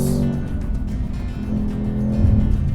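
A Ford Mustang Dark Horse on a race track holds a loud, steady engine drone while cornering with oversteer, the note shifting slightly through the turn.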